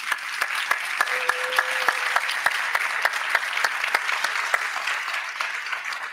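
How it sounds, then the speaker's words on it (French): Indoor audience clapping after a round table discussion at a youth civic event, steady and moderately close, with many hands sustained for several seconds. "Je pense qu'on peut les applaudir."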